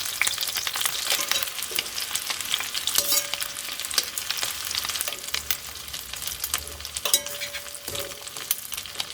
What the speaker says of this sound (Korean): 시간을 조금 두고 노릇노릇 앞뒤로 이렇게 구워주시면 돼요